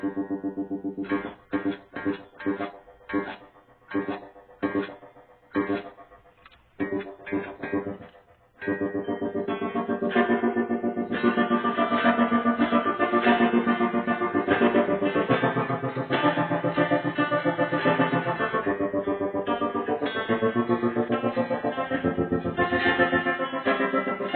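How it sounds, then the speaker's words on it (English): Electric guitar chords through a vintage analog Marlboro QSB-II Quadra Sound Blender multi-effect with reverb, first as short choppy strums with gaps, then sustained, washy ringing tones that blend together with a lingering tail. "I'll start blending in some reverb"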